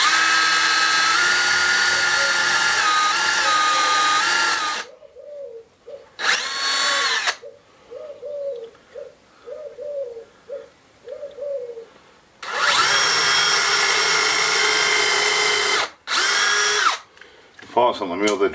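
A cordless power drill driving screws to fix timber shuttering together during stonework repair, in loud sustained whirring bursts separated by quieter pauses with background chirps and handling noise.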